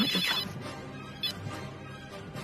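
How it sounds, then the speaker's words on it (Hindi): A telephone rings with a bright electronic tone, steady and moderately loud, with no voices. "1 मिनट फोन आ रहा है।"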